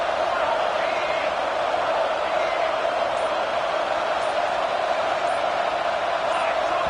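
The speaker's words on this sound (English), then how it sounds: "And with this place rocking, the crowd forces a false start." A loud stadium crowd at a Michigan vs. Kentucky football game roars in a dense, unbroken wall of cheering and noise that holds steady throughout.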